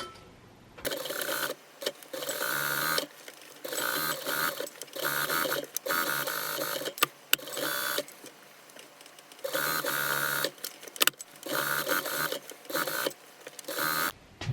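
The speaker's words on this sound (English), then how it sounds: "I'm gonna stitch a 1/2 inch seam, just to ensure that I'm catching all 4 layers of the fabric" A sewing machine stitches a half-inch seam through four layers of fabric for a small pet bed, running in several steady motor bursts separated by brief pauses, close and fairly loud with no talking.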